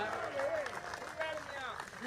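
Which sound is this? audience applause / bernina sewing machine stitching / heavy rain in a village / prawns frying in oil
audience applause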